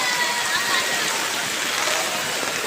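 Heavy monsoon downpour in Nalasopara with water rushing and pooling, a dense steady hiss of rain and flowing water, loud and continuous throughout.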